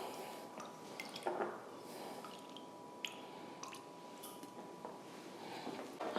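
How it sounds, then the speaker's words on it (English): Dark elderberry tincture strained through a fine mesh sieve into a bowl, making soft wet drips and squishy liquid sounds, faint and close with scattered brief splashes throughout. "I'm gonna take my already extracted elderberry tincture and run it through a fine mesh sieve"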